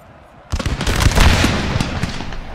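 Infantry musket volleys in Napoleon Total War break out suddenly after a quiet moment into a loud, dense crackle of overlapping shots that rolls on and slowly thins.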